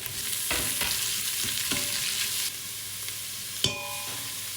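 Onions and garlic sizzle and fry in a pan, a steady loud crackle with a few sharper stirring scrapes and a clank near the end, no voices over it.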